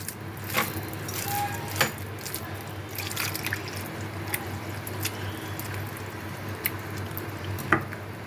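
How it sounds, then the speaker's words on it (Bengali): Water is added to a wood apple chutney mixture in a kitchen, giving a steady wet trickle with scattered close drips and splashes throughout. "একটু নুন দিয়ে এটা ভালো করে মেখে নেব নিয়ে একটু জল দেবো এটায়"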